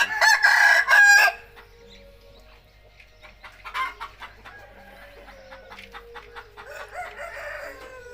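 Roosters crow loudly in a coop with a heat lamp on a cold day, the long crow filling the opening second, followed by scattered clucks and scratchy farmyard rustling at a quieter level.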